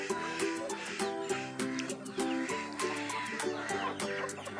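A flock of hungry free-range chickens clucks busily and continuously nearby, many overlapping calls in a dense chorus, with no talking.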